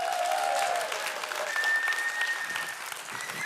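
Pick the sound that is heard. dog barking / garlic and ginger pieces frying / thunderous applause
thunderous applause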